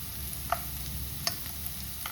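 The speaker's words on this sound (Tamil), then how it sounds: "முந்திரி ஆட் பண்ணிவிட்டேன். கேஷ்யூ இதுவும் 2 மினிட்ஸ் நல்லா குக் பண்ணிவிடுங்க." Cashews fry in a pan with a soft, steady sizzle while the cook prepares a creamy chicken curry. A few light clicks of stirring against the pan break through, and no one speaks.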